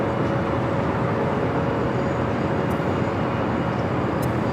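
An American Airlines Boeing 787-8 Dreamliner arrives at LAX from Tokyo Haneda, heard as a steady, moderately loud broadband engine rush with a faint sustained whine running underneath.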